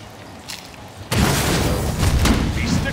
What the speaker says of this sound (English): He sticks us with a grenade.